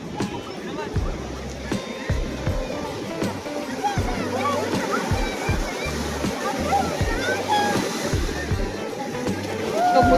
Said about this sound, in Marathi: समुद्राचा आवाज आणि त्याचा आनंद.